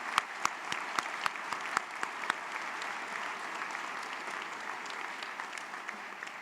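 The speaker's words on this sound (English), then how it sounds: "I'd like to give you a very large round of applause" A large commencement audience applauds steadily, a dense wash of clapping that holds for several seconds, with a few sharper nearby claps standing out early on.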